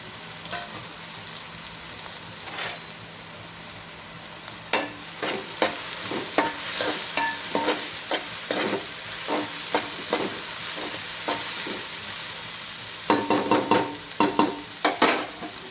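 Ingredients frying in a pan until reddish-brown, cooking down with onions before drumstick pieces go in for an egg and drumstick curry: a steady sizzle with repeated spoon-stirring scrapes, growing busier and sharper toward the end, with no talk.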